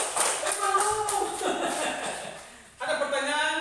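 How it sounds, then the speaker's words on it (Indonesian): A classroom of students claps for a group, with scattered hand claps, light chuckles and voices mixing, then the clapping picks up again near the end. "tepuk tangan untuk kelompok"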